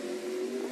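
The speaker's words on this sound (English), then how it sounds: "listen to the throttle work as well on this truck" A NASCAR Camping World Truck Series race truck at Canadian Tire Motorsport Park in 2017 holds a sustained, high-pitched engine whine under throttle on track, steady and fairly close, with no talk over it.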